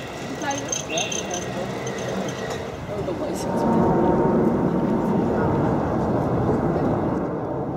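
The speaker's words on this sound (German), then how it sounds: "Das Flugzeug fliegt über Amsterdam." An airplane flies over Amsterdam, a broad low rumble swelling midway and holding steady, mixed with city background noise.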